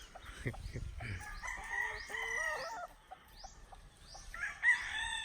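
A rooster crows with long, rising calls while chickens cluck around it, close by and fairly clear, with faint background noise.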